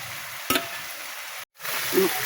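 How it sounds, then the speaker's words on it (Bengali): Chopped tomatoes drop into a frying mustard-paste masala of onion, garlic and ginger for tilapia fish curry, giving a soft, steady sizzle with one brief louder burst and a short break before the frying resumes. "এবার কেটে রাখা টমেটোগুলো দিয়ে দিলাম।"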